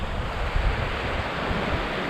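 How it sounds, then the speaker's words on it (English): Fresh mountain stream water pouring down a Scottish hillside near the Munros, a steady broadband rush with low gusty rumble, continuous and fairly close, no voices. "Plenty of fresh water coming down."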